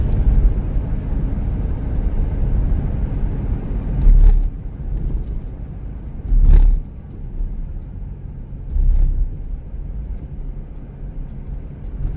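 A car drives along a road in Kalasin, Thailand, giving a steady low engine and tyre rumble throughout, with a few brief swells as it passes bumps or other traffic.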